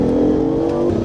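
A hybrid car in power mode accelerates hard from a standstill to 80, its engine and drivetrain droning steadily and loud from inside the cabin with a rising tone, no talk.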